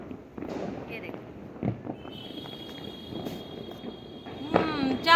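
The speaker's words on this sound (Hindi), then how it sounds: "आप देख ही रहे हैं कितनी जल्दी जल्दी फटाफट से फटाके चलाए जा रहे हैं" Diwali firecrackers burst around a rooftop, with repeated sharp cracks and pops at moderate distance over a continuous crackling din, with voices in the background.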